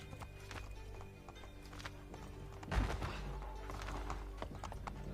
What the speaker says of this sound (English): Right now, we're just walking with horses.